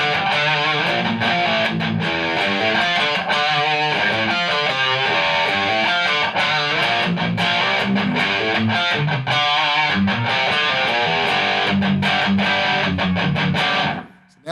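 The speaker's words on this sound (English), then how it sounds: "this pedal's actually got quite a bit of distortion" Electric guitar played through stacked distortion pedals, including a Boss distortion, loud and saturated with chugging riffs and sustained chords, cutting off abruptly at the end.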